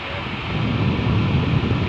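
An air cooler fan runs on its highest setting, producing a loud, steady whooshing rush of moving air that swells slightly and holds without pause.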